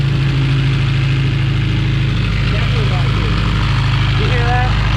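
A Honda Prelude engine idles loudly and steadily nearby with a low rumble and a noise from the exhaust side, while people talk over it.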